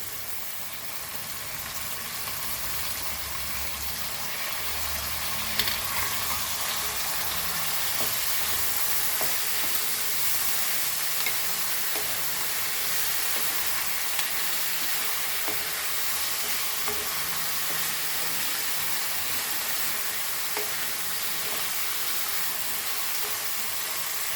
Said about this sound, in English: Now the onions are fried, so we will add a vegetable to this.